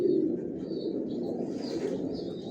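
Long-distance racing pigeons coo in a loft in Bangladesh, low throaty murmurs rolling on continuously and close by, with faint higher chirps above and no talking.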